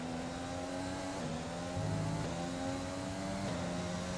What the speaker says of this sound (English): Oh, our poor engine is struggling so badly.